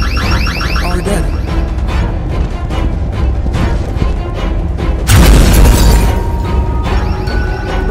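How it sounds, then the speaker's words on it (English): Grenade explosions in the video game Dark Deception Chapter 7, one heavy boom bursting loud over a dense, continuous game soundtrack with alarm-like tones. "He's throwing grenades."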